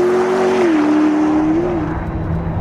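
A McLaren P1 supercar with 903 horsepower accelerates hard, its engine holding a loud, close, sustained drone that climbs, dips briefly at a gear change and rises again, then drops off slightly as it pulls away.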